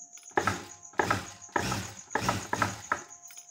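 Sewing machine stitching a silk blouse, running in five steady bursts with brief pauses between them, loud and close with a whirring mechanical rattle and no voices.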